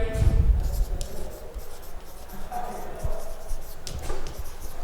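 Marker or chalk scratching across a board while equations are worked out, steady scribbling strokes with a voice talking over them in a classroom setting.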